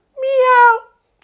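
A human voice imitates a cat with a single clear, drawn-out meow, close and loud, followed by silence.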